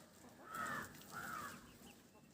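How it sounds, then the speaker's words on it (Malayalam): Small chickens cluck softly in a couple of short, rounded bursts, fairly close by, over a faint background of farmyard ambience. "ഇത് ചെറിയ കോഴികളാണ്"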